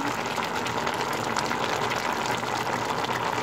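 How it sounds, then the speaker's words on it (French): Water boils steadily in a pot with softened carrots and courgettes, a close, continuous bubbling and hissing that runs throughout with no talk. "maintenant que les carottes et les courgettes sont ramollies, on va rajouter un peu et que l'eau bouille"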